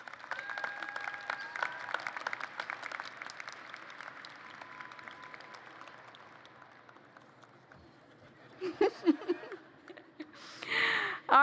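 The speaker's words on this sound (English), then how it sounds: "Please join me in a round of applause" A university commencement audience applauds steadily for several seconds, the clapping broad but moderately distant, then fades before louder bursts of nearby sound near the end.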